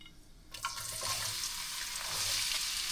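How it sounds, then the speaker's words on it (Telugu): Chopped onions hit hot oil already seasoned with cloves, cardamom and a bay leaf for a chicken fry, bursting into a loud, close sizzle that settles into a steady crackling hiss. "సో ఆనియన్స్ వేస్తున్నాను"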